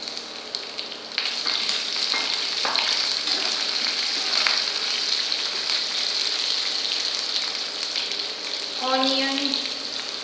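Curry leaves sizzle in hot oil for toor dal fry, a bright crackling hiss that flares at the start and stays steady, with a short tonal squeak near the end.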